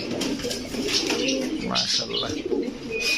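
Several pigeons coo and murmur close by in a busy, overlapping chorus, with a steady bustle of noise around them.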